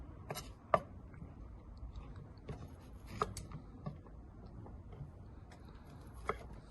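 A knife slices through peppers on a cutting board, giving a few sparse, sharp taps against the board spread over several seconds. No one speaks, and a quiet room hum sits underneath.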